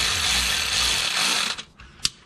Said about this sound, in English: Now this little 1/4-inch drive impact doesn't have enough ass to strip these